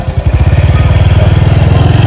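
Close, loud motorcycle engine running on a morning commute ride in Thailand, a fast steady low thrum of firing pulses with little variation in pace.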